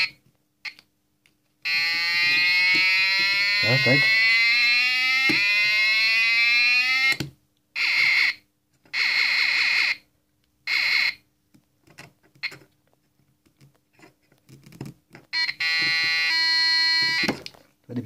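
A small electronic kit plays a run of loud synthetic siren sounds: rising and falling sweeps, pulsing warbles and chirps in separate bursts with brief gaps. A voice speaks briefly near the end.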